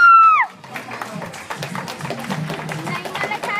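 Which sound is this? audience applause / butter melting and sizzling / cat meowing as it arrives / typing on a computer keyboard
audience applause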